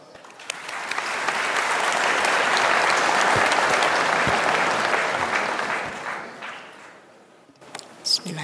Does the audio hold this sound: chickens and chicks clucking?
no